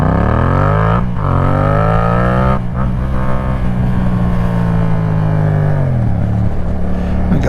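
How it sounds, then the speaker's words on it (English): A Yamaha MT-07 motorcycle with a loud exhaust roars up close, its pitch climbing as it accelerates hard, with brief dips as gears shift. "That's the only problem with a loud exhaust."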